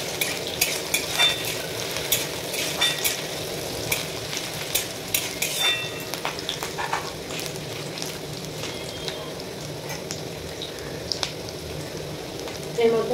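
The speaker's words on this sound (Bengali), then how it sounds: "এই তেলটা পেঁয়াজ কাটা দিয়ে দিলাম। এর মধ্যে লঙ্কা কুচি, কাঁচা লঙ্কা কুচি, এটাকে ভালোভাবে নেড়ে চেড়ে নেবো।" Chopped onion and green chilli sizzling in hot oil while being stirred, a close, steady frying hiss broken by frequent scraping clicks and taps of a utensil against the pan, with no voices.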